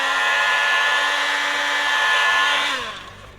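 A heat gun blows hard at car trim on a BMW 1 Series: a loud, steady, close-up whooshing whine that holds level, then drops in pitch and fades as it is switched off.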